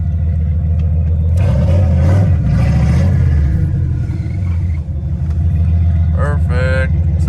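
A turbocharged Foxbody Mustang on a test drive, its engine a loud continuous rumble that swells and eases as it rolls along, with a brief higher whine near the end.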